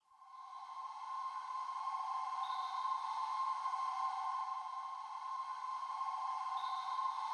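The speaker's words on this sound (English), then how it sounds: "So it's really subtle, but it's a cricket choir." A subtle cricket choir texture layered into a trap beat fades in quickly, then holds as a steady, thin, high chirring drone, even and unbroken with no voices.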